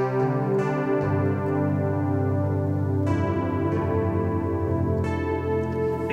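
Layered DX7-style FM synthesizer patches from a keys and synth production, with sustained harmonic pads and a ticking, pulsing texture, steady and loud throughout with shifts in tone near one, three and five seconds.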